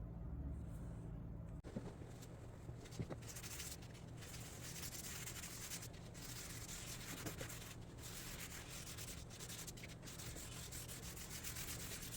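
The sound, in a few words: sanding an ash wood Shaker table before finishing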